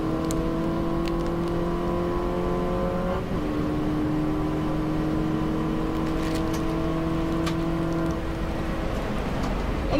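A Mini Cooper S race car engine at Cadwell Park holds a steady high drone in fourth gear, with a brief pitch drop and shift partway through, loud and continuous from inside the car.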